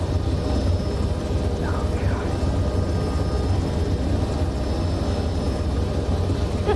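Helicopter touching down on a helipad in the video game Arma 3, a steady, dense rotor and engine drone that stays loud and even throughout, with faint voices underneath.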